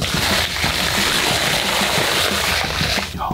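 Continuous loud rush of water pouring and splashing, a dense, close sloshing wash throughout.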